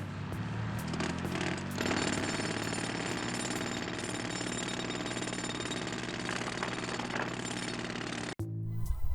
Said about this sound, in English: I drilled a small hole in the book cover